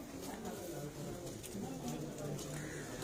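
Rooftop pigeons in Jhelum cooing softly in the background, low murmuring calls repeating under a busy outdoor wash of noise and nearby voices.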